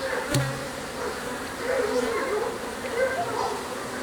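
Honeybees on a brood frame lifted from a queenless hive give a steady, soft insect buzz, continuous and close, with a brief thump near the start.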